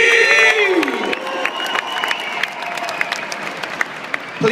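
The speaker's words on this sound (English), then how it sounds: "Give a massive round of applause to Dai" A crowd claps and cheers for FMX freestyle motocross rider Dai Suzuki at the Ramp'd Up show, Motorcycle Live 2012. A voice rings out briefly over a large indoor audience, then the applause and cheering carry on with scattered sharp claps.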